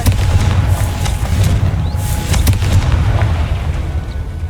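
A Confringo fire spell explodes in the Hogwarts Legacy video game, a loud rumbling blast with several sharp cracks layered over a heavy low roar that sustains throughout.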